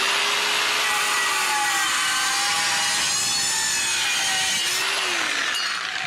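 A DualTools CS450 saw slices through a steel doorway threshold in one loud, continuous high-pitched grinding whine with a slowly shifting motor tone, close up and with no talking.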